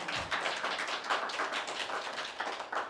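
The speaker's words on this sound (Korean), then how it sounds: "박수 한번 쳐주십시오" An audience at a policy forum on community radio held at the Gwangju city council claps briefly, a soft patter of scattered hands heard at a distance with an irregular rhythm.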